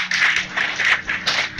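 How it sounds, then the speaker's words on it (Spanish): Audience applause at a religious teaching session, a bright steady wash of hand claps swelling and dipping over a couple of seconds, fairly close and loud. "Dale un aplauso, por favor."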